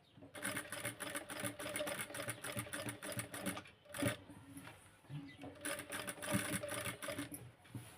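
Sewing machine stitching the hip joint of a Punjabi dress, a close rhythmic needle chatter running in steady bursts with a short pause near the middle, alone without talk.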